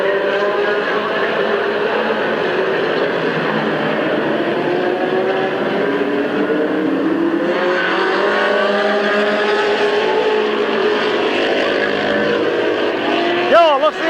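Race cars roar around Midvale Speedway, a loud continuous engine drone rising and falling as the pack passes, with an announcer talking over the racing.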